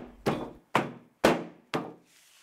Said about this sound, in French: On frotte vigoureusement les capsules sèches entre les mains ou on les bat avec un bâton.